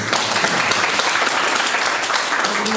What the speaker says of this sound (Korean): 혜민 배우님께도 박수 한번.